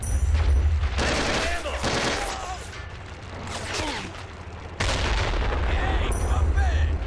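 Bursts of gunfire and artillery-like blasts from the WWII strategy game Men of War: Assault Squad 2 (Valour mod, combat mode), loud and dense in two stretches with a busier din of battle and voice chatter between.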